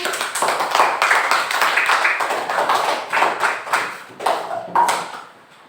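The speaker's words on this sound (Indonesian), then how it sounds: "Tepuk tangan" Children clap their hands in a school classroom, a run of sharp, fairly loud claps in an uneven rhythm that comes in bursts and fades out toward the end.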